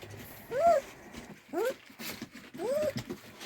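Three high, thin whimpers from Estonian hound puppies, each a short rising-then-falling whine about a second apart, close by over a faint background.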